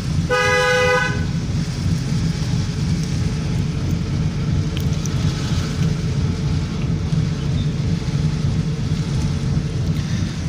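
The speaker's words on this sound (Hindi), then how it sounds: "हल्का सा एक बार हॉर्न दे दो" A single short car horn honk at the start, followed by a steady, loud engine and road rumble from inside a car moving through crowded road traffic.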